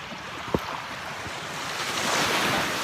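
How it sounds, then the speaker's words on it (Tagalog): Ocean waves wash in at a beach in Baler during high tide, a steady broad surf rush that swells toward the end, with a sharp knock early on and no talk. "sa aking likuran ay yung dagat"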